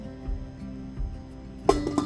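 A metal lid clinks shut on a pot of brown rice being dry-roasted for tea, a brief close clatter near the end following a quieter stretch of low stirring and cooking sounds.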